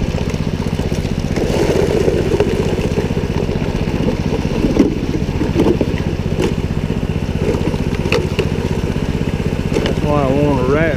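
A small engine powering a high banker sluice at the Mt Creek gold mine idles with a steady, close, chugging drone that continues evenly throughout, with faint clatter on top.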